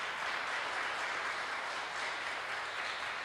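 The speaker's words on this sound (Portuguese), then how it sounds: "Será que a gente pode aplaudir mais uma vez o Senhor," A church congregation applauds during an online Sunday service, a steady, even wash of clapping held at a moderate distance for several seconds with no voices over it.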